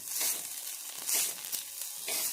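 Coriander stems roast in a pan with a soft, airy sizzle and hiss that swells in short waves, close and fairly quiet, with no voices.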